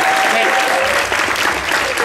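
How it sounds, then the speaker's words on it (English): Loud, steady audience applause at a live Dating Game-style comedy show, dense clapping from a crowd filling the room for a couple of seconds. "Put your hands together. I'll make some noise for The Dating Game."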